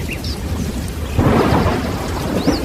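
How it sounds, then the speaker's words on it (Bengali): Sudden heavy rain with thunder breaks over an open field where labourers are digging soil with spades, a steady loud downpour swelling after about a second with low rumbling beneath it and no voices. "মুহূর্তের মধ্যেই ঝমঝম করে বৃষ্টি নেমে এলো।"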